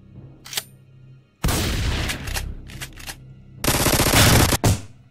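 Bursts of gunfire from a typical gun in an animated scene, a loud sustained volley followed by several sharp shots and then a heavier, longer burst of rapid fire near the end.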